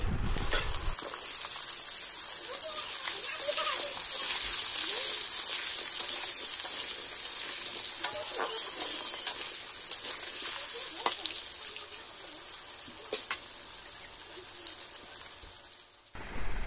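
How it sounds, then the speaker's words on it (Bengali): Cut potatoes fry in hot oil left from frying fish, with cumin, producing a loud, dense sizzle and hiss that runs steadily for over fifteen seconds before cutting off, dotted with small pops and crackles. "আলুগুলোও তেলের মধ্যে ছেড়ে দেব আর একটু লাল লাল করে ভেজে নিতে হবে"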